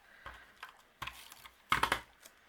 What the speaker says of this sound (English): And I'll just use my tape runner for this.